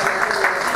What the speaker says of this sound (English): Come on, give a round of applause to the Lord.